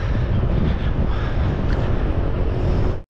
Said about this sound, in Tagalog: Lakas ang hangin dito.